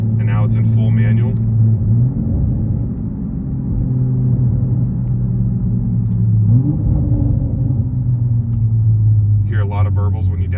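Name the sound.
sports car exhaust burbles and pops on downshift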